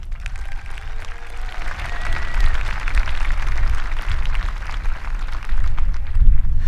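A graduation audience at a high school ceremony gives a sustained round of applause, a dense steady wash of many hands clapping that builds slightly toward the end, with little talk over it.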